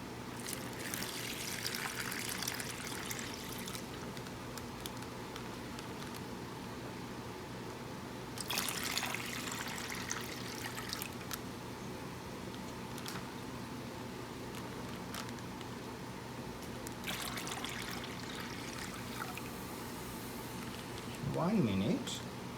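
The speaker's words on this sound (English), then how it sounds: "I'll pour the water." Water poured into a Ziploc bag for a leak-proof experiment, soft trickling and splashing in a few bursts with ongoing background noise and people talking nearby.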